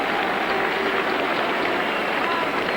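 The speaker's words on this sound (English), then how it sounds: "A few screams from the crowd." Tennis crowd at the 1995 Davis Cup final between the USA and Russia gives a dense, steady wash of noise and excited screaming, loud and continuous across the whole moment.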